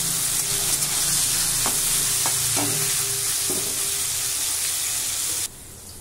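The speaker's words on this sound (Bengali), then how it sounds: "নেড়ে চেড়ে আমি ভেজে নেব" Salted soya chunks stirred and fried in a pan, a loud bright sizzle with a few distinct spatula scrapes in the middle, cutting abruptly quieter near the end; no one speaks.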